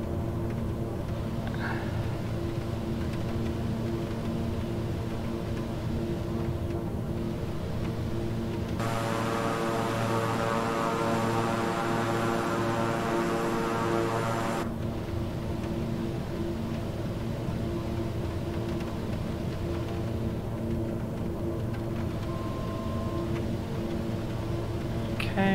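The twin turboprop engines of a King Air 350i in Microsoft Flight Simulator give a steady, even drone throughout, turning louder and brighter for several seconds in the middle before settling back, with no talk.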